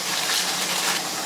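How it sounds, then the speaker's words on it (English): Kitchen tap running at full flow, a loud, steady rushing splash that fills the moment without a break. "I know the water's loud."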